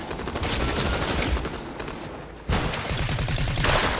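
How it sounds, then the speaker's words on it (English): Rapid gunfire crackles through a video game duos fight, a dense nearby fusillade that dips briefly around the middle before a second sharp burst picks up and continues to the end. "And they're shooting right at her."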